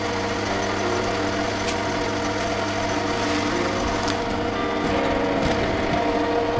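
A Sieg C2-300 mini lathe fitted with upgraded axial taper bearings runs on automatic feed, giving a loud, steady motor whine and mechanical hum with constant vibration throughout, with no talking.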